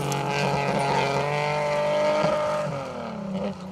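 A Fiat Ritmo rally car on a historic rally stage, its engine note loud and close as it rises and holds, then drops in pitch as the car passes and pulls away.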